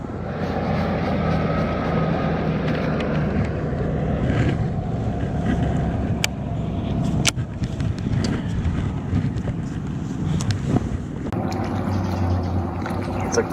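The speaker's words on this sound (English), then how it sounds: "It's a cool old boat." A steady low engine drone of an old boat moving on the river in downtown Knoxville, Tennessee, blended with gusty wind buffeting the microphone.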